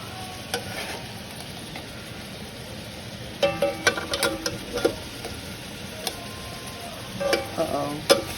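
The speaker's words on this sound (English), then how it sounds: "Now we're going to let this brown for a little while" Salisbury steak patties browning in a pot give a steady, quiet sizzle. Louder crackles and spits pop up in bursts near the middle and end.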